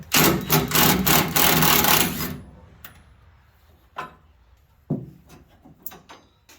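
An emergency brake bracket is removed with a 1/2 inch socket: a loud two-second run of ratcheting, then a few isolated clanks and metallic knocks from the tool and bracket, with no talking.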